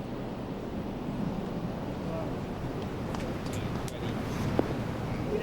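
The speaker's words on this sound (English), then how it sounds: "Quite a bit of wind is picked up out here" Wind blowing across a golf course at the 2010 Toshiba Classic, near a par 3 tee, a steady broad rushing roar with a few faint ticks, no voices.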